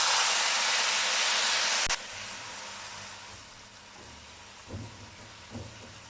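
A cup of water poured into a pan of roasted sweet vermicelli sets off a loud, close hiss of sizzling steam. The sizzle cuts off abruptly after about two seconds into a low simmering bubble.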